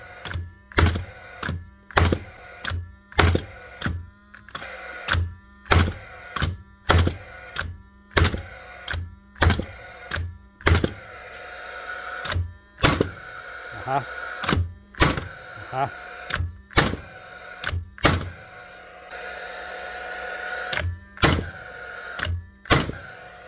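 Paslode cordless nail gun blank firing during a repair test, sharp percussive clacks repeating in a fairly steady rhythm, about thirty shots, close and loud with a faint hum between them.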